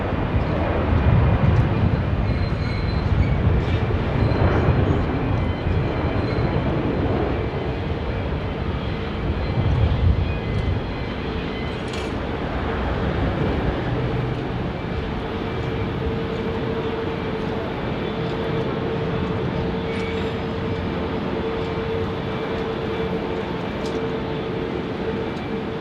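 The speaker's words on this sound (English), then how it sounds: "there's our Unity Fokker 70 off 16 right" A Fokker 70 airliner takes off from runway 16 right at Sydney Airport, a broad steady jet roar heard from a distance that swells near the start and again mid-way, then holds at a constant rumble with a faint whine.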